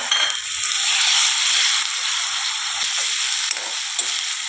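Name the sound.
frying garlic-chilli paste with onion in oil, stirring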